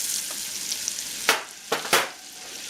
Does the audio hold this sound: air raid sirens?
no